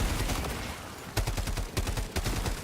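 Grenades go off in the video game Helldivers 2, a rapid cluster of sharp, loud blasts and cracks rattling in quick succession after a burst of noisy rumble.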